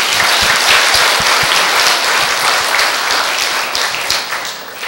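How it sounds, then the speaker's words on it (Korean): Loud, dense audience applause at a military Buddhist commemorative service, a continuous wash of many hands clapping close by, steady throughout and tapering slightly near the end. "큰 박수 부탁드리겠습니다."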